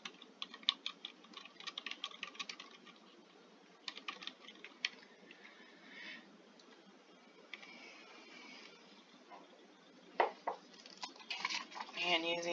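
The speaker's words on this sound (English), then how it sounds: "I'm going to go ahead and type this." Typing on a computer keyboard to enter a new record, with quiet, close, irregular key taps that come in scattered clusters and a busier run of clatter near the end, and no voices.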